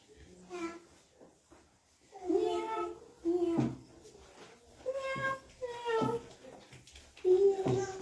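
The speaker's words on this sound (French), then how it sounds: "Petit chaton." Kitten meowing in short, repeated high cries, fairly close and clear, with quiet gaps between the calls.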